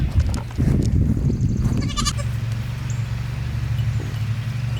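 Young homestead goats bleat in a few short, wavering calls, fairly close and clear over a quiet outdoor background.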